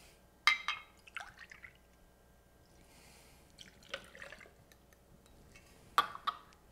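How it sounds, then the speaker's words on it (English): Orange vodka is poured into a mason jar full of ice, bringing a few separate bursts of dripping, trickling liquid and clinking ice at close range over a quiet background, with no voices. "add 2 ounces of orange vodka."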